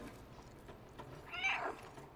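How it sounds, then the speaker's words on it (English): A cat meows in the video game Stray, a short moderately loud call rising over steady game background noise about halfway through. "I think I just have to spam meow"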